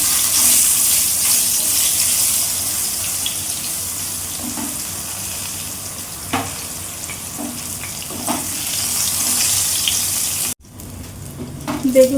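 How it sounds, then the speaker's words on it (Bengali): Brinjal slices frying in oil left over from frying fish, a loud, steady sizzle filling the pan, with a few soft clinks and a sudden drop near the end. "মাছ ভাজার তেলে আমি এবার বেগুনটা হালকা করে ভেজে নেব।"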